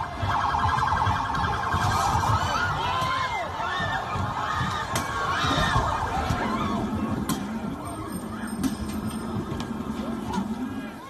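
Protest crowd in a US street demonstration, with a wailing police vehicle siren rising and falling over loud, continuous crowd noise and shouting throughout.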